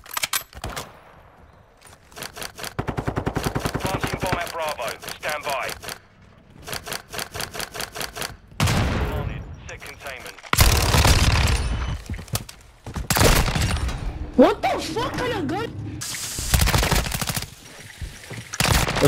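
Rapid gunfire bursts and single shots ring out in a shooter video game's search-and-destroy match, loud and repeated in clusters, with players' voices talking over the action.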